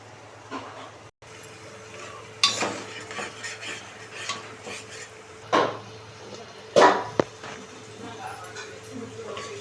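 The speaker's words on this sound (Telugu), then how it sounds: "ఇది మధ్యలో కలుపుకుంటూ ఉండాలి." Mutton curry is stirred in a pan with a spoon, a few scraping strokes and clinks standing out over a low steady hum and faint sizzle, with some speech in the background.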